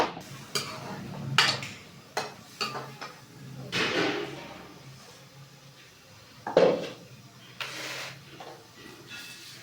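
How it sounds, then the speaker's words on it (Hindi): Spoon scraping and clattering against a kadhai as chicken curry with garlic paste is mixed, a series of uneven metallic knocks and scrapes at moderate level with short pauses between strokes. "अब अच्छी तरह मिक्स कर लेंगे।"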